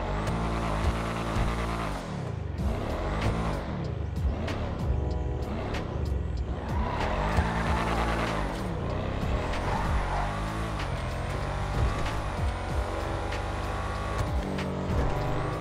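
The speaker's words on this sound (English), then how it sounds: "Both cars also have a nice aggressive engine sound" Armoured Schafter V12 and LWB car engines in GTA Online rev and roar continuously, pitch rising and falling through gear changes, loud and close with no talking.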